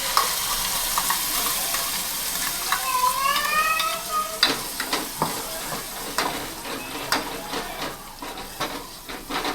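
Kingfish (surmai) sizzles steadily in a hot pan with a constant, close frying hiss, punctuated by clinks and scrapes of a utensil against the pan, and a brief squeaky warble early on.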